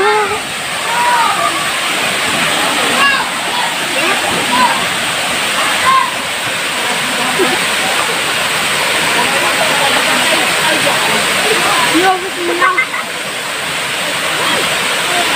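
Binuang Falls waterfall roars as a loud, steady rush of falling water that fills the whole scene, with faint voices of people talking nearby mixed into the wash.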